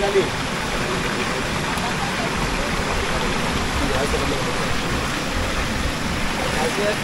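Stream flowing in a rural African village, a continuous broad rushing wash of water, steady and fairly close.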